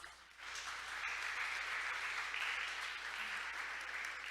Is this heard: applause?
yes